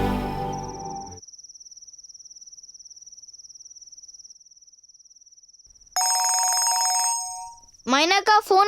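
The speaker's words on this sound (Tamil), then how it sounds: "ஃபோன் அடிக்குது" An electronic telephone ringer trills in one long, thin, steady tone, then a brighter and louder burst of ringing follows, with voices in a Tamil television drama scene around it.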